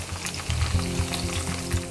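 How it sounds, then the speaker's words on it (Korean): A scallion pancake (pajeon) fries in a generous amount of oil, giving a steady, close crackling sizzle with a low background hum and no talking. "파전은 기름을 넉넉히 부어가지고 튀기듯이 해야지 맛있어요."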